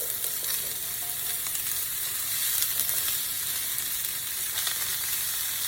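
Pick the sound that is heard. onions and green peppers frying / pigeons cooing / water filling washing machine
onions and green peppers frying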